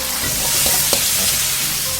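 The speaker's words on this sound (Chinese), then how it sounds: "稍微翻炒，下入木耳" Wood ear mushrooms stir-fried with mild green peppers and bird's eye chilies in a hot wok, a steady close sizzle with a few soft scrapes and clinks of the spatula, no talking.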